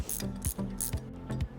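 A ratchet tightens the top nut on a coilover during a spring swap, clicking in repeated quick strokes of several clicks each with short pauses between. It is close and clear, with no talking.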